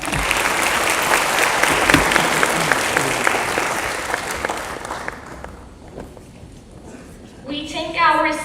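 An audience at a university symposium applauds a departing rector, dense sustained clapping that fills the room for several seconds before fading, then a voice speaks at the end.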